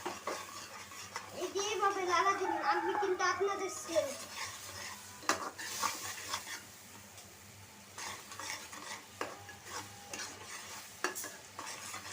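Spice masala being stir-fried in a pan for an eggplant, potato and kachki fish chorchori, with scraping stirs, clinks of utensil on metal and a low sizzle, as a voice speaks briefly early on.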